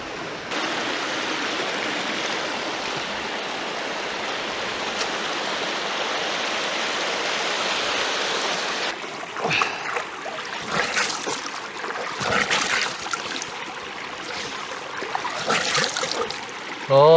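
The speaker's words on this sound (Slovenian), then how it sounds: "ta spodnji slap, ki je tudi najvišji" Waterfall on the Sopota stream in the Gorjanci hills, the lowest and tallest of its falls, roaring steadily and close for about nine seconds before the rush grows patchier and uneven.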